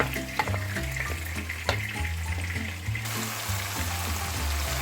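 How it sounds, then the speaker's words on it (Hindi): Tomatoes frying with lamb in a pan, a loud steady sizzle with occasional stirring clatters, close and continuous throughout. "अब इनको मैं गोश्त में डालने लगी हूँ।"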